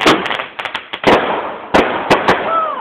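Fireworks go off close by in a rapid series of sharp bangs and crackling pops, with a whistling rise near the end and a voice briefly heard.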